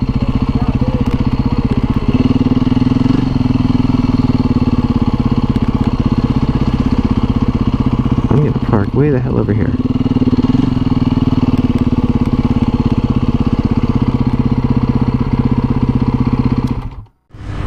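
A Honda Grom motorcycle idles close by with a loud, steady, mid-pitched putter throughout, someone speaks briefly over it, and the engine cuts off abruptly at the end.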